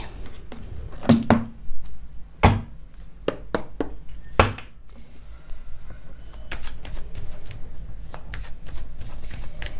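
Tarot cards are shuffled and riffled at close range in a quiet room, with bursts of crisp flicking and tapping interrupted by short pauses, and a faint voice appears at moments.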